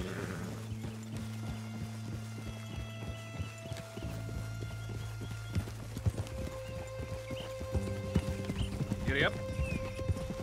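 Horse hooves clip-clop in a steady walking rhythm in the Western game Red Dead Redemption 2, with a neigh and an even musical score beneath the hoofbeats.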